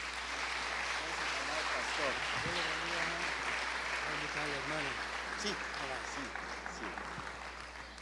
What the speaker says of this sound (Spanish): Damos una ofrenda de palmas al Señor.